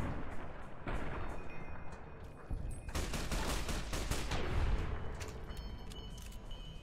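Gunfire rattles in the video game Fallout: New Vegas, a dense burst of rapid shots and booming blasts layered over a constant rumbling game backdrop, loud and sustained for several seconds.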